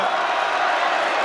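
A large boxing arena crowd roars for Anthony Joshua during his fight with Joseph Parker, a steady broad wash of cheering and chatter that holds without a break.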